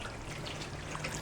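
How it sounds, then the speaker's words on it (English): Water poured into a pot of chicken curry, a steady trickling splash lasting about a second, close and moderately quiet. "I'm going to go ahead and add a bit of water"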